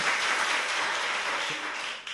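Studio audience applause at a Korean talk show taping, a steady broadband wash of many hands clapping that holds evenly for about two seconds, then drops off briefly near the end.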